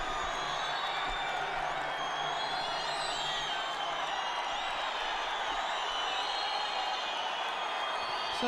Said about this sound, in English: So the crowd is not too pleased with that.